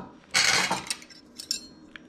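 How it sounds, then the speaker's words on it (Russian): Two forks toss transparent glass noodles in sauce on a serving platter, giving a loud burst of metal scraping and clinking against the dish, then a few lighter scattered clinks. "Берем 2 вилочки и вот так вот хорошо перемешиваем, чтобы соус обволок спагетти"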